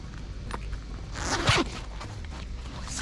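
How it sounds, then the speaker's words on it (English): The main zipper of a large cobalt suitcase, found in a storage auction unit, is pulled open in one quick, close rasping stroke within a quiet room. "Here's the main zipper."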